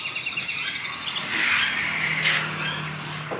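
An ashy drongo calls from a kiosk at a bird market, giving repeated thin, bright chirps and whistles over a steady hum of background noise.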